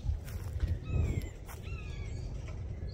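A hawk calls from somewhere among the trees, giving a few thin, high whistled cries over a low, rumbling outdoor background.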